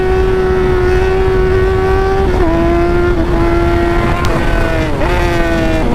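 A 2018 Yamaha R6 sport motorcycle revs hard and steadily nearby, its loud, sustained engine note rising and dipping slightly through a couple of clutch shifts, with no voices over it.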